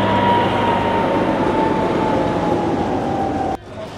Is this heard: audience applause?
no